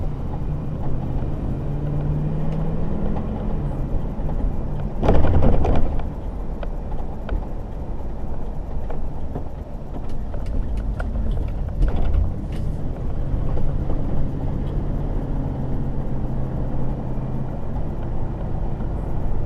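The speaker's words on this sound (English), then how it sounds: "The green and traffic is just starting to move now." Road traffic rolls past, heard from inside a Ford F250 pickup as it waits at a green light, with a steady low engine rumble, passing vehicles and occasional clunks and knocks.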